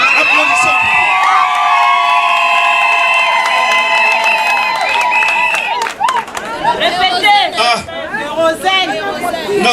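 Wedding guests at a customary marriage for Anastasie and Miguel whoop and cheer with sustained high shouts and ululation, then break into excited crowd chatter and overlapping voices, loud and close.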